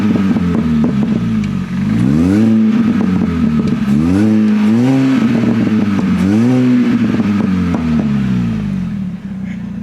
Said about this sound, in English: But let's get a quick exhaust note.